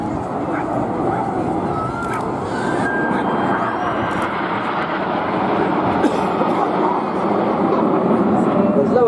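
RAF Red Arrows jets fly over the Blackpool Air Show, a steady loud roar of jet engines sustained throughout, with an announcer talking over the noise.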